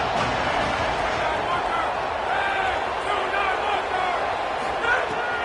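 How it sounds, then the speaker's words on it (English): Stadium crowd noise in an NCAA college football video game, a steady, loud roar of Red Raider fans on third down, continuous throughout with a commentator talking over it. "The Red Raider crowd rising to the occasion to help its defense on 3rd down."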